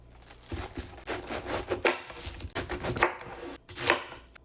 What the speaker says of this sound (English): Next, let's cut our lettuce.